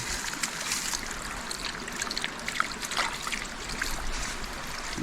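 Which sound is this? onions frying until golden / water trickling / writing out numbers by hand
water trickling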